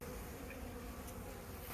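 Honey bees buzzing steadily around a hive during a rescue, a faint continuous drone that holds evenly throughout with no voices.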